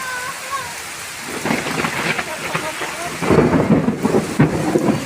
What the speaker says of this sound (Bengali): মেঘ ডাকছে কিভাবে, দেখো।